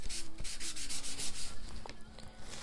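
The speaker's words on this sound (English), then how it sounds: "You can see the chalk actually comes off much better with the antibacterial wipe." Brisk back-and-forth rubbing of an antibacterial wipe over a silk screen to lift off chalk, close and steady, with short repeated strokes and no talking.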